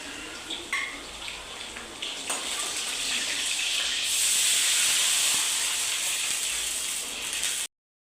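A glass of water poured into a hot pan of oil-fried garlic, mustard seeds and cumin sets off a loud rushing hiss of steam that swells to a peak midway and holds before cutting off abruptly.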